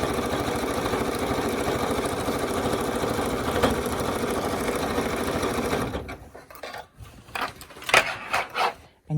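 Sewing machine stitching pink thread in the ditch of a baby quilt's binding, running as a steady dense whir for about six seconds, then stopping and giving way to a few light clicks and handling sounds.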